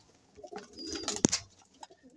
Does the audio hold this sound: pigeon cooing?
yes